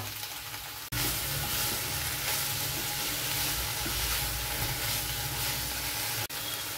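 Soybeans frying in hot oil in a wok, a loud continuous sizzle with stirring scrapes, cutting off briefly near the start and again near the end.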